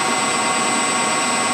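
A machine tool spindle runs steadily at about 1200 RPM, giving a constant loud whir with a high tonal whine. No other sounds break through.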